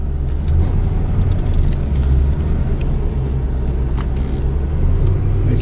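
A car engine, a Honda Clarity plug-in hybrid, pulls away from a stop and revs up through first into second gear, loud and close with a steady low drone and no talk.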